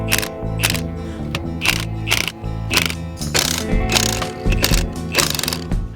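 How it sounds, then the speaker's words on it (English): Bolts being loosened on a gearbox with a slip clutch on cattle ranch equipment, heard as a series of ratcheting, mechanical bursts repeating at a steady rhythm over a continuous tonal hum. "we're gonna go ahead and get started on loosening those bolts"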